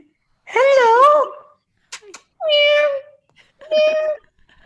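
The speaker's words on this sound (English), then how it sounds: "Do you have a cat right there?" A house cat meows three times up close and loud, a long wavering first cry followed by two shorter ones with gaps between, and a small click or tap between the first and second.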